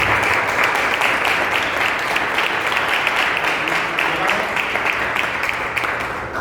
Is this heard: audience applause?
yes